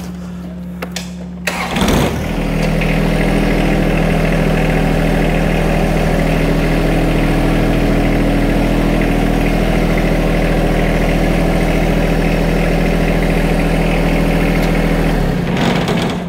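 A John Deere 120R compact tractor engine starts after a brief pause, then settles into a loud, steady idle that runs unchanged for about thirteen seconds before it drops off near the end.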